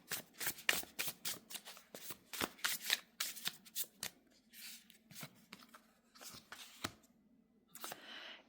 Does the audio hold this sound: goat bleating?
no